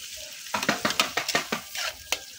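Ginger sautéing in a hot pan, with a close, lively sizzle broken by a quick run of sharp stirring scrapes and clatters, about ten strokes in two seconds, after a brief quiet start.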